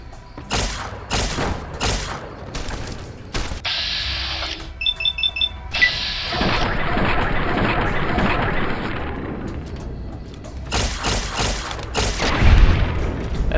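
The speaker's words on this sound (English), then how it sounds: "That is such a cool laser sound in slow motion." Laser weapon fire in Fallout: New Vegas, slowed into drawn-out booming blasts with a stretched whirring swell and a short burst of rapid electronic pulses, loud and close, with no voices.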